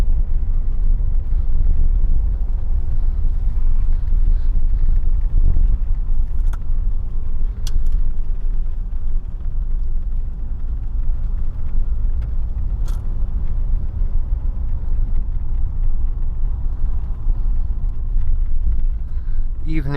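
A Mercedes W126 running on LPG rumbles steadily during an evening drive. Deep, loud engine and road noise carries on throughout, with some wind buffeting and someone speaking over it.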